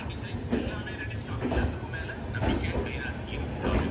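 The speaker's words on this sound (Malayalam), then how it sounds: "Train number 22476 Coimbatore Hisar AC superfast. ഇതാ കോയമ്പത്തൂർ റെയിൽവേ സ്റ്റേഷൻ 4-ാം നമ്പർ പ്ലാറ്റ്ഫോമിലേക്ക് വരികയാണ്" Train 22476, the Coimbatore–Hisar AC Superfast, rolls into platform 4 at Coimbatore railway station, reversing in with a low continuous rumble and faint rhythmic clatter of wheels, fairly close.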